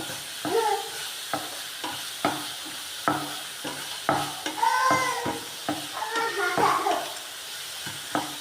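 Egg and banana fry together in a pan as a quick snack while a spatula stirs and scrapes in repeated sharp strokes over a continuous close sizzle, with soft sounds in between.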